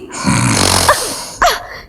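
A man snores loudly and close by in a drawn-out rasping breath, followed by a shorter snort, with no talking.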